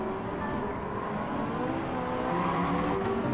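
Race car engine in Gran Turismo 7 (GT7 Spec II), a steady, loud droning whine with layered harmonics throughout, rising slightly in intensity toward the end, with no speech.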